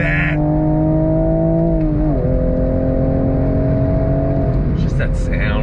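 A 2023 Toyota GR Supra with a manual gearbox revs toward 7,000 rpm. The loud, close engine drone climbs steadily in pitch, dips briefly at a gear change, then keeps pulling, with faint voices at moments.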